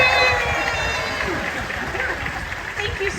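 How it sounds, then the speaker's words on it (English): Audience applause at a Disney's Hollywood Studios anniversary show, a broad, steady rush of clapping and cheering from a large crowd, slightly distant and fading a little toward the end. "Let's give a big round of applause for Serena Arvizo"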